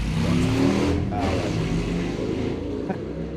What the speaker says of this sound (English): the loudest car ever just went down the street